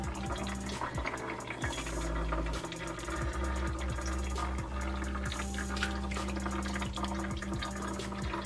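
Arnica massage oil is poured slowly through a small funnel, a steady liquid trickle and gurgle running throughout over a continuous low background hum, no talking.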